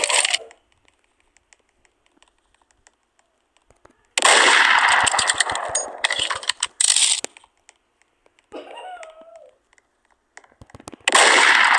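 Loud bursts of rapid automatic gunfire in a Roblox game crackle in long stretches separated by near silence, sharp and close.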